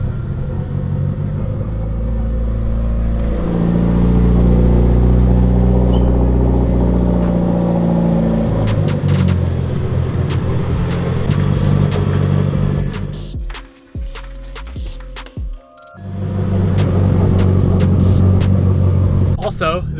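A car engine idles steadily after a makeshift wiring repair to replace a faulty cam and crank sensor, a low continuous rumble with a brief revving burst and dip midway, heard close with people talking over it.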